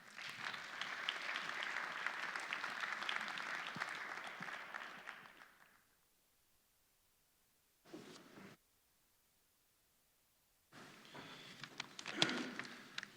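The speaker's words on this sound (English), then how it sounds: "please give him a warm applause." Full audience applause at a business summit's welcome session fades out after about six seconds, followed by silence, a brief burst of sound, more silence, then renewed clapping near the end.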